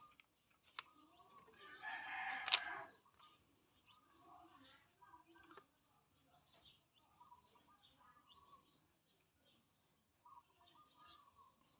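A rooster crows once, moderately loud but set back from the listener. Faint voices and a low background murmur continue before and after the crow.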